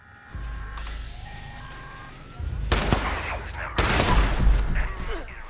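Two heavy, explosive shotgun blasts in Fallout 76 ring out over a low engine-like hum, each burst crackling and rumbling briefly.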